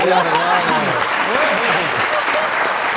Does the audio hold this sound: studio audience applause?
yes